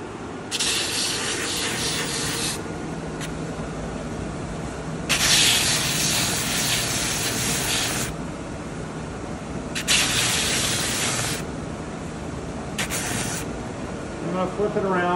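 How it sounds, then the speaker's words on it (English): A drum sander smooths bandsawn log parts with repeated bursts of loud broadband hissing as each piece is pushed across the drum, separated by quieter pauses with a motor hum, and a voice talks over parts of it. "I'm going to come up to the drum sander and smooth it out"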